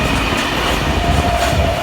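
An electric train rushes past close by through a station in Sydney, loud and steady, with rumbling wheels and a faint electric whine throughout.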